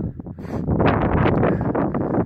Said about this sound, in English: The wind nearly blew us off a few times